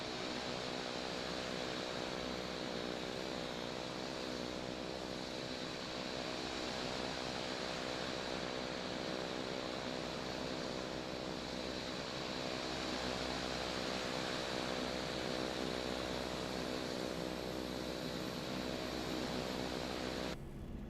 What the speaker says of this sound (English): Only thing is this plane taxis so fast